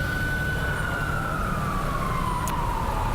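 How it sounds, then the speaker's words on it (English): Emergency vehicle siren wailing in a major city during the Boston Marathon, a single steady tone gliding slowly downward over continuous loud crowd and traffic noise, fairly distant. "I do hear sirens behind you."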